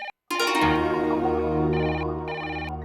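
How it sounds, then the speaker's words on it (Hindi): An incoming-call ringtone on a phone in a household plays loudly as a bright repeating melodic tone, continuous for nearly three seconds after a brief silent gap, with no talk. "अक्षरा का ही फोन आ गया"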